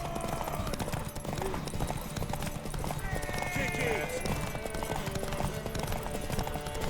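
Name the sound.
horse hooves galloping, from a video game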